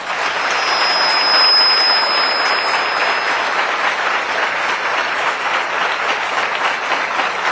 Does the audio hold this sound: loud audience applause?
yes